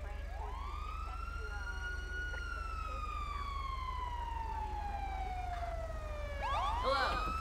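Police car siren in the GTA V video game, a single long wail that sweeps up, then slides slowly downward before rising sharply again near the end, over a steady low hum with no talking.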